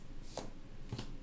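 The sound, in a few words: shuffling tarot cards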